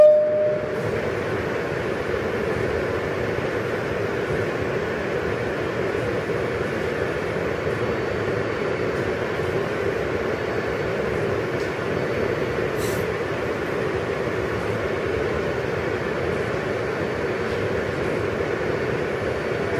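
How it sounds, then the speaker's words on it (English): A Manhattan-bound New York City Subway Q local train, a Siemens R160B, runs with a steady rumbling roar of wheels and motors heard from inside the car, continuous and fairly loud throughout with no talk. "This is a Manhattan-bound Q local train."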